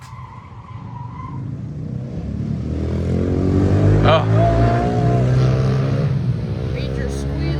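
Major tire squealing from a vehicle outside in a residential neighborhood, a long rising screech that swells over steady engine-like rumble and fades, with a brief exclamation from a person.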